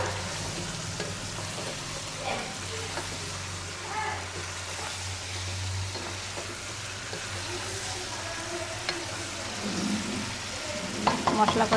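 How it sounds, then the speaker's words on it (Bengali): Meat fries in sautéed spice paste for a home-style roast while it is stirred. A soft, continuous sizzle runs under occasional scraping and clinks, with a low steady hum in the background. "মশলা কষানো শেষ, এখন দিয়ে দিচ্ছি মাংসগুলা।"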